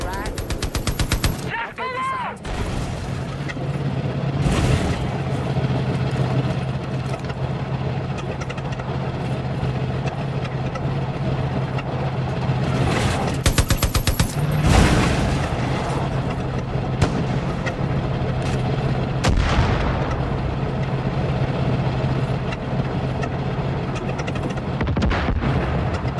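Gunfire in Far Cry New Dawn, heard as several loud, sharp bursts and single booming shots spread across the stretch over a steady humming engine-like drone, with voices speaking in the background.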